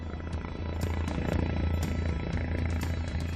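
A steady low mechanical drone of a helicopter, loud and continuous throughout, with a constant rumbling hum and faint higher whine.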